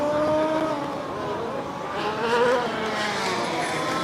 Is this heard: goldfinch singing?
no